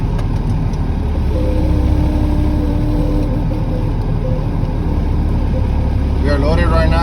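Turbo on a Peterbilt 379 truck with a Cat 3406B engine, heard from inside the cab as a loud steady engine drone with a faint rising whine layered over the rumble.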